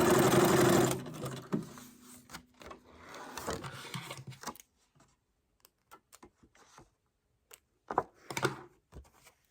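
A sewing machine stitches through paper for a junk journal, a close, loud burst of rapid mechanical stitching at the start, followed by intermittent clicks, taps and handling noises with quiet gaps.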